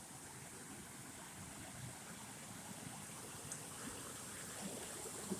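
Water spilling over a small waterfall on a dry, rocky river in Ontario, a steady, soft, continuous rush with no voices.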